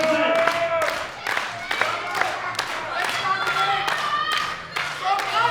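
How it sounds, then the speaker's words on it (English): An audience at a powerlifting world championship claps in a steady, rhythmic beat, loud and close, with a voice talking over it. "Let me hear that clapping."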